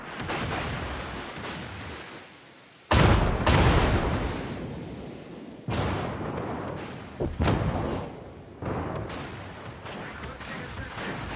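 Warship main guns firing in World of Warships, three heavy booming salvos a few seconds apart, each a sharp loud onset that rumbles and slowly fades over continuous battle noise.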